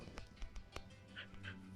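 A dog in the Minecraft video game gives a few short, soft yips and whimpers, with some faint game sounds in the background.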